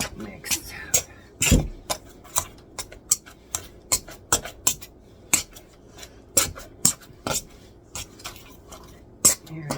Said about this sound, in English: Gonna give it a quick mix.